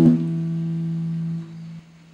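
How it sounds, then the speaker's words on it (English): A guitar string rings through an amplifier by sympathetic resonance, a sharp attack followed by a steady sustained low hum that drops in level and then fades into a quieter lingering tone. "you can still hear a resonating sound from the amp"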